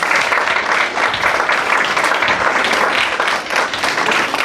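A room greets two new recruits with thick, sustained applause, many hands clapping together in a loud, steady roar that barely dips for several seconds.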